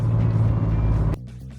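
A 1972 De Tomaso Pantera drives on a mountain road, its engine a loud steady rumble that cuts off abruptly about a second in, leaving a quieter idle-like hum.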